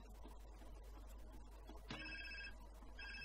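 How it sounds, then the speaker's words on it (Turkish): A phone rings in the video game GTA San Andreas, a sudden electronic ring pattern starting partway through over a quiet, low hum of game background noise. "telefona cevap veriyorum"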